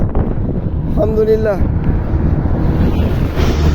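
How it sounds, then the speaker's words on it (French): Sea wind buffets a cyclist riding along the coast, a loud, constant rushing roar against the microphone, with a short spoken phrase over it. "il y a le vent de la mer là qui souffle contre moi."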